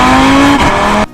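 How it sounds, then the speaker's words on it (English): An Audi 8V RS3's turbocharged five-cylinder engine, fitted with an IE cast stainless steel downpipe, howls loud and close in a deep, aggressive rev whose pitch drops and then holds before cutting off sharply. "create an aggressive and deep sound that really showcases the unique qualities from the turbo 5-cylinder engine"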